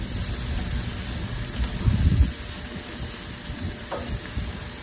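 Burger patties sizzling and frying in a hot pan, a steady crackling hiss with a brief louder scrape and clatter as a patty is flipped, close and clear.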